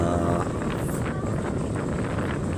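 Strong wind from Typhoon Uwan roars and buffets the microphone continuously, loud and close, with no break across the short stretch.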